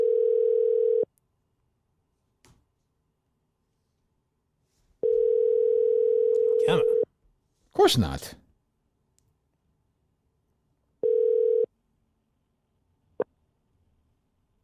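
An outgoing telephone call rings back in long steady tones, repeating several times with gaps, while someone talks briefly in between and a click sounds near the end.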